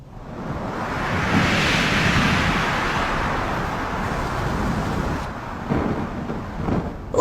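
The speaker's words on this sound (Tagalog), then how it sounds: "Ang lakas din ng hangin na bumubuga mula dyan sa ibaba." Strong wind blows and gusts steadily beside a long burning candle, a broad, loud roar that swells and holds without pause and carries no speech.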